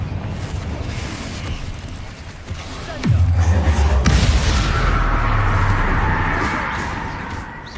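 Confringo fire spell explosions from the Hogwarts Legacy video game, with a sudden deep booming blast around the middle that rumbles on heavily for several seconds before fading, following a lighter whoosh.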